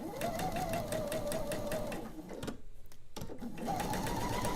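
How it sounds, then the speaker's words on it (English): A sewing machine stitches quilt fabric strips one after another in a fast steady hum with rapid needle ticks, pausing briefly before running again, close and fairly loud. "I will just sew one after the other through that way"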